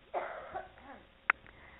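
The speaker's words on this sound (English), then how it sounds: "Little cough there." A single sharp cough from a woman in an interview setting, brief and close, following a softer throat-clearing burst with quiet room tone around it.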